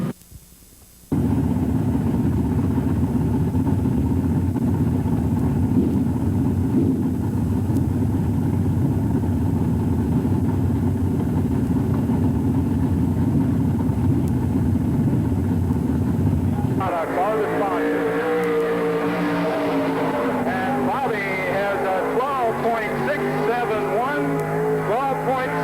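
Race cars at Lawrenceburg Speedway, a 1986 USAC event in Indiana, roaring loud and steady as the field restarts after a four-car pileup in turn one, engines droning continuously before the pitch shifts and climbs as they accelerate, with a commentator talking over it.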